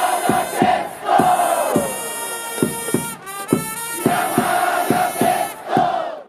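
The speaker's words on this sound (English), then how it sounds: "Each baseball player has their unique cheer, which is delivered in unison by the crowd to the sounds of a brass band that plays live in the stadium" Japanese baseball fans in a stadium chant a player's cheer in unison to a live brass band, with steady rhythmic drum beats and loud, sustained brass and voices.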